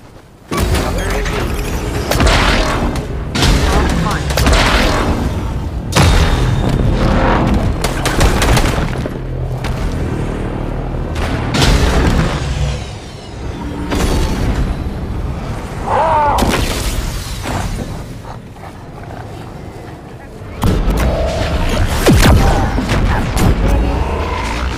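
Plasma cannon weapon firing in a video game, a string of heavy, loud booming blasts at irregular intervals with rumbling decay between them, with no talk.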